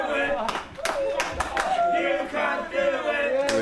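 Wrestling crowd jeering at heel Bully Jay after he used a referee as a shield, a loud mass of shouting voices with bursts of clapping, heard under a commentator's talk.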